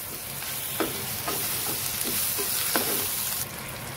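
Ginger-garlic paste frying in hot oil, with a steady broad sizzle and several soft scrapes as it is stirred around the pan, close and moderately loud with no talking.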